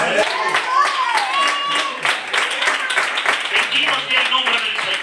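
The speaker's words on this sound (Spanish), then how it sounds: "¡Dar un fuerte aplauso!" A congregation claps at a free worship service in a church, rapid, dense clapping that runs throughout while voices shout and talk over it.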